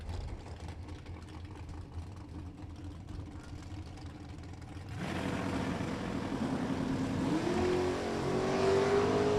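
Drag racing at a track, an engine idling and rumbling, then a louder surge as a race car accelerates, its pitch rising steadily.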